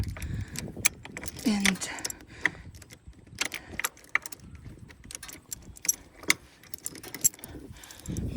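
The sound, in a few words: chain being removed and handled at a tow bar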